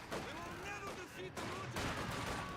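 A sniper rifle fires at a Grenadier squad amid Company of Heroes 2 battle noise: sharp gunshot cracks and scattered fire, with a commentator's voice running over the top.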